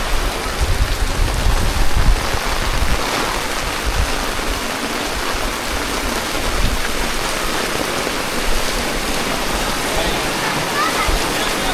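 Heavy rain pours at Pavagadh Mahakali Temple, a dense, loud, continuous roar of water hitting surfaces. It runs steadily throughout, with voices faintly mixed in underneath.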